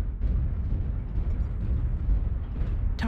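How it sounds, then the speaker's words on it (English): Dense, rumbling artillery strike explosions in MechWarrior Online, a continuous heavy low roar of blasts that fills the whole stretch, loud and close, ending with a sharper burst. "Artillery strike online."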